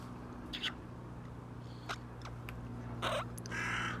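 A crow caws outdoors in a few harsh, separate calls, some nearer and louder, over a steady low engine-like hum.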